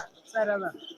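Pigeons coo at a pigeon market in Mirpur, a short harmonic coo swelling up in the middle, close and moderately loud, with faint market murmur around it.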